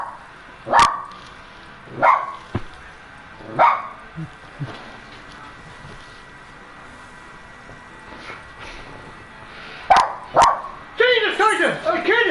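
A pet dog barks in loud, separated bursts, a few single woofs spaced across several seconds, then a quicker cluster of barks near the end, with a person talking in between.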